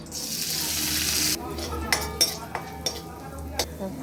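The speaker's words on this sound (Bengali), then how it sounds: "নিম পাতালো আমি এটার মধ্যে দিয়ে দিলাম," Neem leaves drop into hot oil with a sharp burst of sizzling that fades after a second, followed by several distinct clinks of a metal utensil against the pan.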